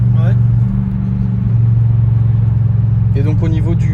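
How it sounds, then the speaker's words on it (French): A Mercedes CLK 55 AMG with a naturally aspirated 5.4-litre V8 drones loudly from inside the cabin, a deep steady engine tone shifting pitch as it pulls, with brief talk at the start and end. "T'as beaucoup de reprises, c'est un gros moteur quand même."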